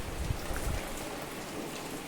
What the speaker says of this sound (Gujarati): સવારનો બપોરનો વરસાદ એટલો શરૂ છે